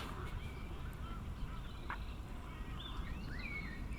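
Faint honking and whistling calls of diving waterbirds at a tench fishing spot drift in from a distance over a steady rushing background noise.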